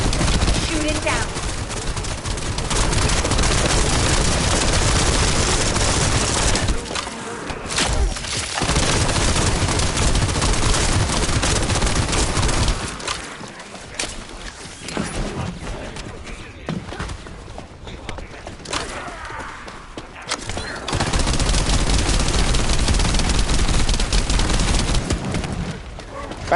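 Sustained gunfire from the video game The First Descendant, dense automatic bursts that run loud for long stretches, drop away briefly in the middle, then return at full force near the end.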